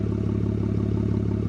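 An Audi Q5 fitted with dual exhaust cutouts idles with a steady, deep, throbbing rumble, close and continuous with no talking.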